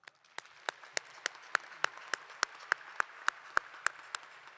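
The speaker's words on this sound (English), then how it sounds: "One more round of applause." Applause from a graduation commencement crowd at a university ceremony, a dense continuous patter of many hands with a few sharp, evenly spaced louder claps standing out, fairly distant and without talk.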